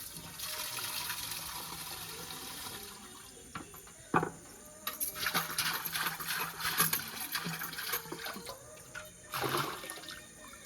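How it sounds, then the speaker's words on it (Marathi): Water splashes and pours as a clay pot is washed outdoors, an irregular run of sloshing and gushing bursts with a steady watery hiss underneath, fairly quiet and without talk. "जाऊया आता मडकं ते धुवून देत"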